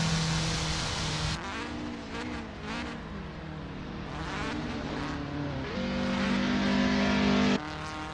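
Nissan Micra K11 Cup race car in a sim racing game at Horsma Club, engine revving and shifting through gears continuously, loud and close, with pitch rising and dropping between changes.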